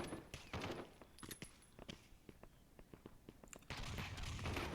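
Gunfire rattles through the VR shooter game AIM XR: a run of sharp, fairly quiet shots at irregular intervals, ending in a denser burst of noise.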